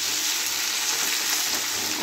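Chicken pieces fry lightly in a pan over a high gas flame, giving a close, steady, bright sizzle with no pauses.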